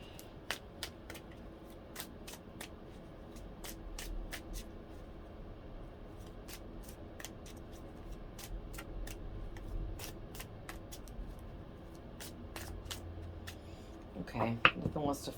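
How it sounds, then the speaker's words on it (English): Tarot cards being shuffled close by, a long run of quick light flicks and riffles with a soft rustle between them, ending in a louder clattering burst. "Let me do a big shuffle."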